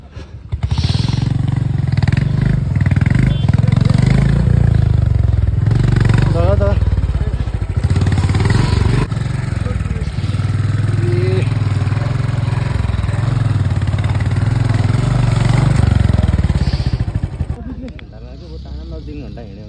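A motorcycle engine revs and labours for a long stretch while the bike sits stuck on a muddy, slippery dirt road on the way to Karpu Dada, loud and close, with voices talking over it before it drops off near the end.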